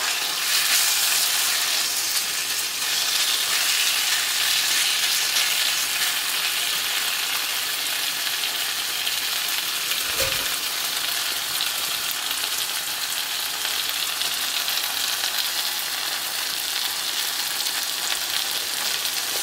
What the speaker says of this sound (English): Chicken has been frying for about 2 to 3 minutes.